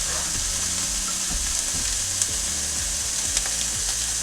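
Fish sears in a hot pan for a rice bowl, with a loud, continuous close-up sizzle broken by a few light stirring scrapes and taps.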